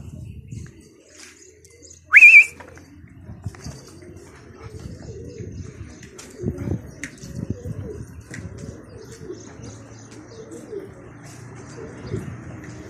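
Pigeons coo softly in low, repeated calls outdoors, with a short sharp bird chirp near the start and faint rustling around them in an otherwise quiet setting.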